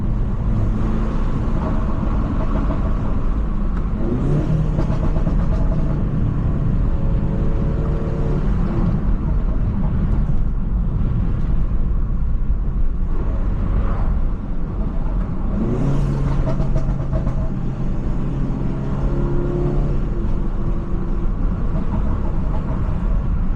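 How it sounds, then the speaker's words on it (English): A tuned stage 2 BMW G20 330i drives with continuous loud engine and road drone, its exhaust pops and burbles mixed into the steady roar along with brief rising revs. "I want to hear how noxious these burbles are."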